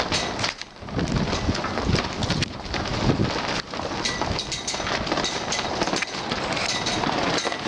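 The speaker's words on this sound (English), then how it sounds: "My area is getting very strong winds." Strong wind roars across the microphone in a dense, continuous rush with gusty buffeting throughout, loud and close, with no talking.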